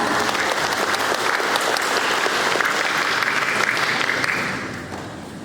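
Loud, dense audience applause welcoming the moderator at a public lecture, sustained evenly before tapering off and fading near the end.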